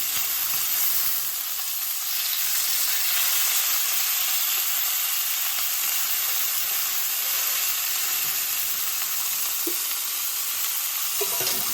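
Pork tenderloin sears in an oiled pan on a home stove, a steady loud sizzle and hiss filling the whole stretch with a few small pops, close and continuous, no one talking over it.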